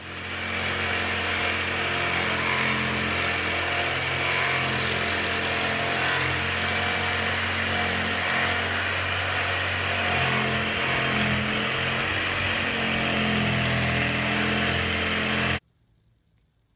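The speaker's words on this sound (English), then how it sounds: "I'm going to cut them out" A jigsaw saws continuously through countertop material, a loud, harsh buzzing whine held steady for about fifteen seconds before cutting off abruptly.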